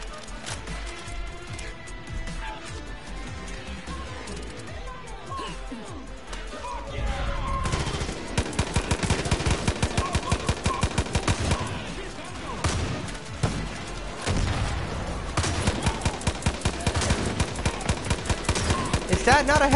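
Rapid video game gunfire from Far Cry New Dawn, bursts of automatic shots and repeated single reports, loud and dense through the second half after a quieter, murkier opening.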